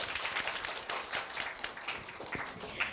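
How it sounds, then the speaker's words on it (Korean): An audience applauds a middle school student after a presentation, scattered clapping from many hands at moderate level, fairly even throughout with a few sharper claps standing out. "멋지게 발표해준 현희 학생에게 큰 박수 다시 한번 부탁드립니다"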